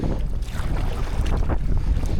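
Strong wind buffets a microphone on open water during a kayak fishing trip, a steady roaring rumble with gusty swells that never lets up, with faint water movement beneath and no talking.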